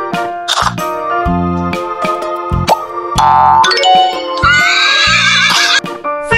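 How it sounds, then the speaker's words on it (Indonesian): Horse neighing in a loud, close series of shrill whinnies and snorts, broken by short gaps and ending in a long, wavering neigh. "Kuda."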